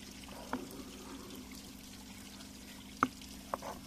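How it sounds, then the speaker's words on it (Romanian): A little water poured into Romanian garlic sauce (mujdei) being thinned, a soft low trickle under a steady hum, punctuated by three sharp clicks or taps. "o să pun și puțin apă, pentru că îl vreau puțin mai lichid"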